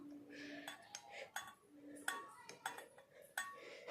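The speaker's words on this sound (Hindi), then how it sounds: "तो गाइस ये देखिए बर्तन साफ कर लिया है" Dishes, plates and cutlery clink and clatter while being washed at a sink, a string of sharp metallic and ceramic knocks at irregular intervals under a low background hiss.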